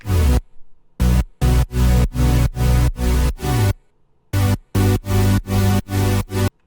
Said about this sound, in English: I put volume automation on the saw, which gives it the rhythm.